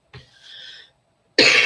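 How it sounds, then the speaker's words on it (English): A person with bronchitis coughs twice: a short throaty hack and a wheezy, drawn-out breath, then after a pause a loud, harsh, close burst. "I still got that cough."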